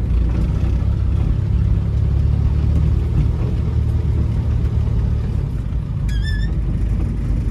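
A Fiat 1100 E antique car runs while driving, its engine a steady low rumble and mid-pitched whir that stays close and even throughout, with a brief high chirp near the end.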